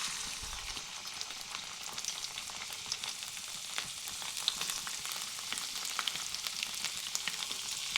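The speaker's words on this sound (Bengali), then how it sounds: "দিয়ে আদা রসুনটা কিছুক্ষণ ভেজে নেব।" Chopped ginger and garlic fry in hot mustard oil in a wok, giving a steady, fairly quiet sizzle with scattered crackles and pops throughout.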